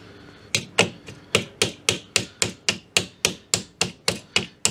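A hammer taps at a stuck part on a Daihatsu Charade engine to split it apart, about fourteen sharp, evenly spaced metallic knocks in a steady rhythm, close and clear with no voices.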